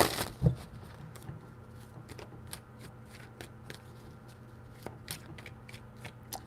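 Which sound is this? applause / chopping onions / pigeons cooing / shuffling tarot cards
shuffling tarot cards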